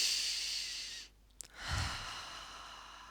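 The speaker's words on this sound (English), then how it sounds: "Do another big breath" A single deep, slow inhale of a breathing exercise follows a brief pause, a soft, close airy rush of breath with no talking.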